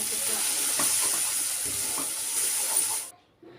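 Capsicum frying in butter with turmeric for pav bhaji gives a loud, steady sizzle close by, with faint stirring scrapes, before cutting off abruptly near the end.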